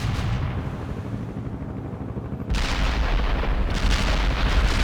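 Heavy artillery barrage in the Cold War strategy game World in Conflict, a dense, continuous rumble of booming shell fire that swells louder partway through, with no voices.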